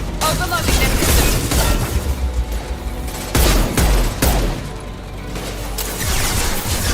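Shooting and heavy impacts from Mass Effect 2 combat against an enemy, bursts of gunfire mixed with booming crashes and explosions across several seconds, dense and loud, with talk at times.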